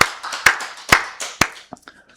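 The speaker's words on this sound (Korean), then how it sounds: "우리 살아계신 하나님께 박수로 영광 드리겠습니다" Congregation at a Korean church's Wednesday service claps in a few loud, sharp bursts that quickly thin out, with a voice briefly heard amid the applause.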